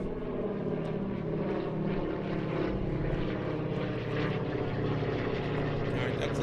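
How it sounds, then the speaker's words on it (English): A vintage C-53 Skytrooper propeller transport passes overhead at an air show, its steady droning engine roar filling the air at a moderate distance, while a voice talks over it. "Sky Trooper D-Day Doll passing overhead once again."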